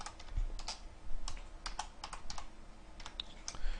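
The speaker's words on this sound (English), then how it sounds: "as soon as I start speeding up, my typing gets horrendous" Someone types on a computer keyboard, a steady patter of close, moderately quiet keystrokes in uneven bursts with brief pauses, no voices.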